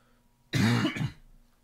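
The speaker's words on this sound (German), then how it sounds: "Ja, mein Husten ist immer noch nicht besser geworden." A single harsh cough or throat clearing from a man, close and loud, lasting about half a second with a short second burst, alone against faint background hum.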